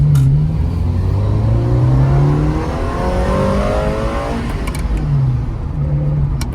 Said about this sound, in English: There's a gear. yeah, missed the shift there.